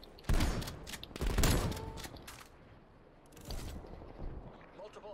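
Shotgun blasts in Black Ops Cold War, a few loud close shots in quick succession followed by quieter gunfire a moment later, with talk in between.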